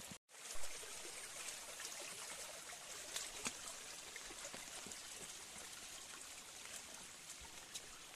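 Heavy rainwater runs behind a house in a constant rushing, trickling wash, faint and distant, steady for the whole stretch after a brief dropout at the very start.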